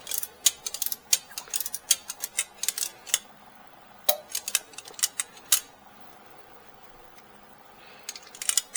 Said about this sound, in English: now the big torque wrench